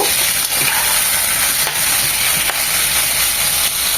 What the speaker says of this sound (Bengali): পেঁয়াজ এবং আদা রসুনের সাথে একটু ভেজে নেব